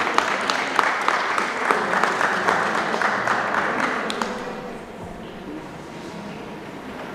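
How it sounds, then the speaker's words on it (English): Audience members at an EdTech Clinic event clap for an introduced speaker, steady applause for about four seconds that then dies away into quiet room tone and faint murmur. "A clap, please."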